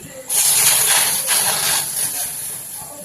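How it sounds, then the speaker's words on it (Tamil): A cup of milk, about 240 ml, poured into a pan on the stove for mango ice cream, making a loud steady hiss that starts abruptly and runs for the rest of the short moment. "இதாங்க ஒரு கப் பால் விட்டுக்கிறேன். அதாவது 240 மில்லி இருக்குதுங்க."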